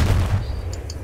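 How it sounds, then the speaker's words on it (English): Bomb dropped on a tank explodes in the Battlefield 1 desert map, a single loud low boom that rumbles at the start and fades over about a second, with faint higher crackle afterward. "I'm gonna bomb that tank over at Edward"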